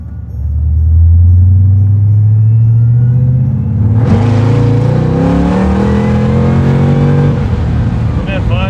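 A supercharged LT4-powered Chevy Corvette C1 restomod revs and accelerates, its loud engine note climbing steadily, then a sharp shift kicks into a harsher, broader roar that keeps pulling hard before easing, close and powerful.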